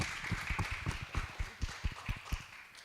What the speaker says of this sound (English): let's clap it up for this young lady here